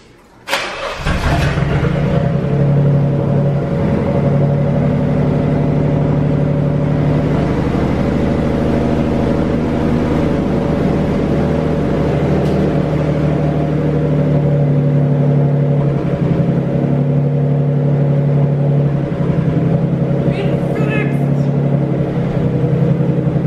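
Nissan 300ZX twin turbo engine cranking and catching in a garage, then settling into a loud, steady idle close by with a rough mid-range hum and no talking.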